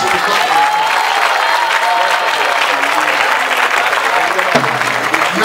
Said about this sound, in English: So I want you to clap.